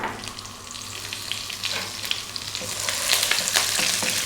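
Dried red chilies, cumin seeds and curry leaves frying in hot oil for Indian yellow dal, a steady close crackling sizzle that grows busier with sharp spits toward the end, with no talk.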